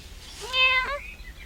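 A cat gives a single clear, moderately loud meow, a short rising-then-falling cry over a faint low background hum.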